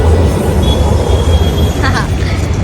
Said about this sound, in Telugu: ఇక్కడ మెట్రో వెళ్తుంది, చూసేయండి